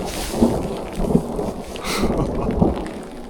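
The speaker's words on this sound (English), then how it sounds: "the thunder's pretty extreme and happening pretty quickly after the lightning" Thunder rolling through a heavy mountain rainstorm in the Rocky Mountains, with low booming rumbles swelling several times over dense, steady rain hiss, close and fairly loud, no talking.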